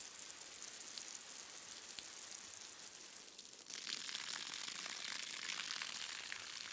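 Steady broadband hiss of a shower running in a video game, continuous spray that grows louder and brighter partway through, with no talk over it.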